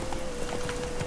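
Horse hooves clip-clop in The Witcher 3 on a mountain path, an even, fairly loud run of thuds that sits alone with no talk.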